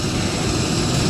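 A helicopter carrying an injured person to an emergency hospital landing, a loud steady engine and rotor roar filling the brief moment, close and unbroken.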